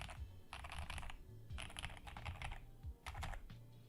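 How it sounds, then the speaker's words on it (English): Typing on a Feker JJK84 mechanical keyboard gives fast, clacky bursts of keystrokes close up, with brief pauses between runs. "That's your typing test."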